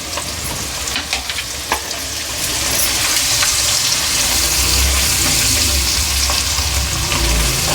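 Green chillies fry in a pan for a spicy goat head curry, a loud continuous close sizzle with crackles and a scraping stir, growing denser partway through, no speech.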